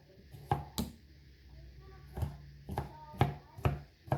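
A knife chopping vegetables on a cutting board while making breakfast quiche: a handful of sharp, irregular thuds with short gaps between them, close and fairly quiet, with no talk.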